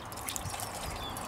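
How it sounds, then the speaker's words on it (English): Water is poured into the side tanks of a model 14xx steam locomotive, giving a brief, steady splashing trickle at close range. "in preparation for steaming, fill the side tanks with water."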